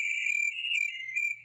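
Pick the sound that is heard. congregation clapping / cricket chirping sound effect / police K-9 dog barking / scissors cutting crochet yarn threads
cricket chirping sound effect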